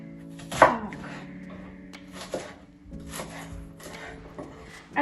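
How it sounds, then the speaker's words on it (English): A knife chops onion into big pieces on a board, with a few separate cuts: one sharp loud thunk, then softer scattered knocks and rubbing sounds, close and without talk. "After potato, I'm going to cut onion with the big pieces."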